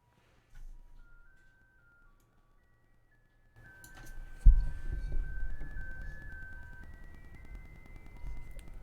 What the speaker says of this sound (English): the fucking ice cream truck is playing Rudolph the Red-Nosed Reindeer